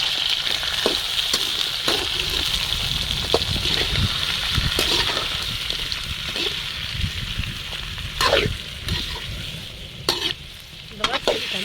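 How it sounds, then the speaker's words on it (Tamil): Large tiger prawns sizzle in hot oil with sautéed garlic and onions as a utensil stirs them: continuous loud frying hiss, close up, broken by intermittent scraping and clattering strokes. "நல்லா வதக்கி வச்சு இறாலை போட்டுக்கலாம்"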